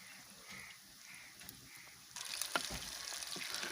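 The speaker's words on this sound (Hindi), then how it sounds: "अब कोफ्ते मैंने फ्राई होने के लिए ऐड कर दिए हैं।" Pumpkin koftas fry in hot oil. A low room hush gives way partway through to a steady, fairly faint bubbling sizzle that carries on to the end.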